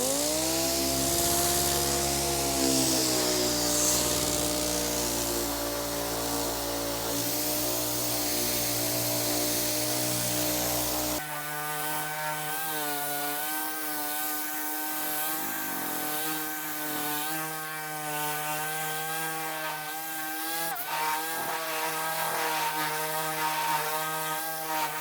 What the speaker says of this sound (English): I'm going to take 80 grit on my DA and just rough this out.